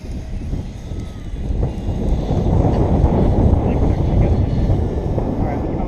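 Strong gusty wind buffets the microphone throughout a flight on a blustery day, a dense low roaring rumble that swells and stays loud without letup.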